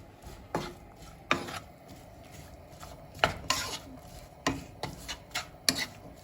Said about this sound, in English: we have our potatoes, onions, and garlic in the skillet. And we just want to give a nice quick toss in that olive oil